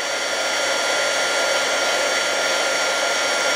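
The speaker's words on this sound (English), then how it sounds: "Then we're going to use our heat tool to melt the embossing powder." A handheld heat tool runs as a steady, loud blowing whoosh, melting embossing powder over metal for a faux patina finish, with no talk over it.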